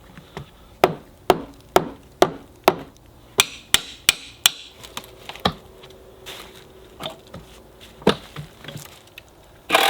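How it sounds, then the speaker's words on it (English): A heavy hammer strikes metal and wood hard, a dozen loud, sharp blows in a steady rhythm that slows and thins toward the end, close by with no speech. "I have a hammer, a heavy hammer, and a pry bar."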